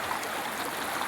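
Steady, broadband rush of a clear, cold stream flowing beneath grass and weeds, continuous and close with no gaps or voices.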